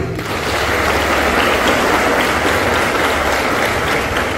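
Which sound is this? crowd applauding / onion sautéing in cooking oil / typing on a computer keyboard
crowd applauding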